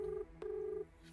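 A telephone is dialled to place a call, giving two steady electronic dial tones, each cut off cleanly with a short gap between them, close by and clear over a quiet room.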